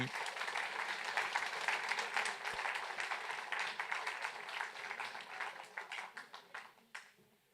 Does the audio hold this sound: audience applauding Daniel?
yes